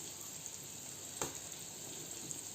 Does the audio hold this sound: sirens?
no